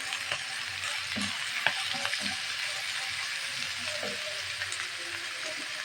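Shredded cabbage and carrots stir-frying for fried rice, a dense continuous sizzle with occasional light clicks and scrapes of a spatula, close up and with no speech.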